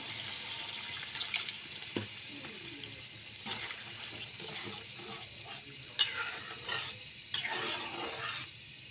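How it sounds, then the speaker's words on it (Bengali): Water is poured into a pan of cooking curry with broad beans and tilapia, a soft splashing gush followed by bubbling, stirring scrapes and a few clanks, fairly quiet and close, with a voice briefly audible. "এখন একটু পানি অ্যাড করে দেবো।"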